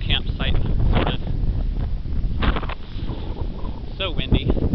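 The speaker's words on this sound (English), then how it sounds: "So windy." Strong gusty wind on a beach in Pensacola buffets the microphone in a continuous low roar, with brief hissy bursts and a voice talking underneath.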